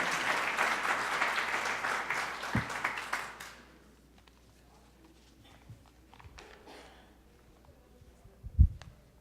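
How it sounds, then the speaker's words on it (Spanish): A strong burst of audience applause after a lecture on macroeconomics and the environment, dense for about three seconds and then fading into quiet room noise with a few faint knocks. "Por favor, un fuerte aplauso."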